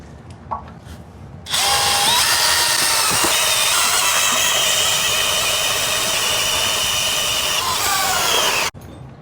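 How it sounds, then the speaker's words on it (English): A power drill bores bolt holes for a Jeep CJ front suspension build, spinning up abruptly and screaming at a steady loud pitch for about seven seconds before cutting off sharply. "now that we got all the bolts drilled, hopefully it fits"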